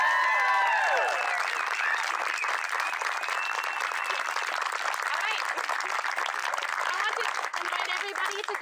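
Wedding guests at Desert Breeze Park applaud a newlywed couple, a dense, loud, sustained wash of clapping with some cheering over it, holding steady throughout.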